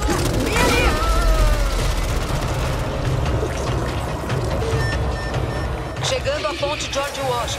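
Gunfire in the zombie shooter Back 4 Blood during the George Washington Bridge level, with rapid shots and booms mixed into a busy game soundscape while characters shout and talk over the action.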